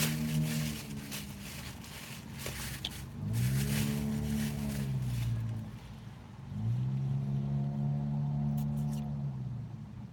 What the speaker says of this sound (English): You can hear the cars down there, but you can't see them.